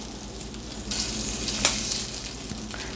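Lentil stew bubbles and sizzles in a pan on a stove turned up to a simmering boil, a steady, close hiss with a soft, brief stir-like scrape midway.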